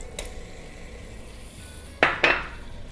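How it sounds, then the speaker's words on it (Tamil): Two tomatoes are dropped into a pan while making prawn biryani, giving two quick close metallic clatters in succession after a soft earlier tap, over quiet room noise. "இதில் நம்ம 2 தக்காளி ஆட் பண்ணிடலாம்."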